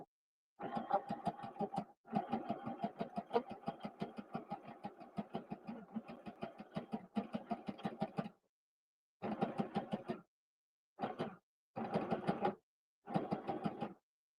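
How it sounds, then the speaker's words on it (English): A sewing machine stitches a travel pillow in rapid, steady bursts, one long run followed by several shorter spurts separated by pauses, close and clear with no talking. "All right, so I'm just gonna stitch."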